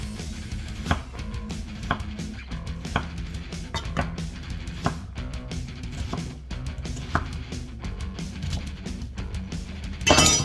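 Knife chopping onion on a cutting board: steady run of sharp, fairly close chops repeating about every half second, with a louder clatter at the very end.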